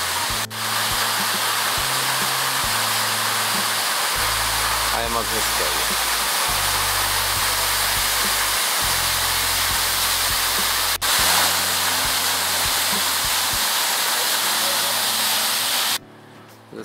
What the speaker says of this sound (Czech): Tak jsme u vodopádu.